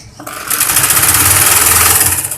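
A sewing machine stitches a baby girl's lined kurti with dori piping along the waist fitting mark, its loud, steady, rapid whir running continuously after a brief start, with no other sound.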